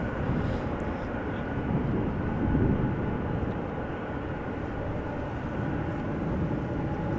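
A jet airliner touches down on runway 06 at Amsterdam Schiphol Airport, a steady broad roar of engines and rushing air heard from a distance, sustained and even throughout.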